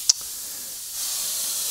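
An airbrush sprays a steady fine hiss of air while water droplets are painted, with a brief click at the start and the hiss getting a little louder partway through; no voices.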